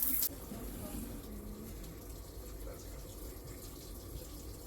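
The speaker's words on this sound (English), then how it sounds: "Let's go ahead and check it out in the shower." Hot water streams steadily from a shower fed by a newly installed electric tankless Rheem water heater, a constant close hiss of spray with a brief louder burst at the start.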